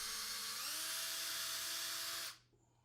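A power drill runs steadily while boring 1.5-inch pilot holes into a custom dishwasher door panel, a close, continuous high whine that rises in pitch once early on and then cuts off abruptly.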